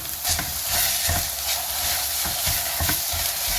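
Chopped parsley and dill stirred into sautéed potatoes in a frying pan: close, continuous sizzling broken by repeated scraping strokes of a spoon against the pan.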